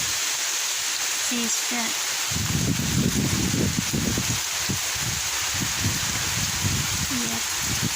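Wind and rain on a rainy day outdoors make a steady rushing, hissing wash that runs through the whole stretch, while people talk over it close by.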